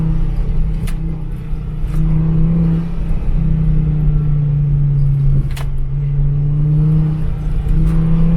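A Volvo S60R engine hums and revs steadily on winter tires during an autocross run, with a continuous loud drone that shifts in pitch as the throttle changes.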